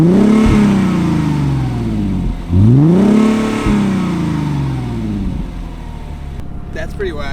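A Mercedes AMG engine revs twice in strong rising and falling sweeps, loud and close, held back near 4,000 rpm, then drops to idle as people talk nearby.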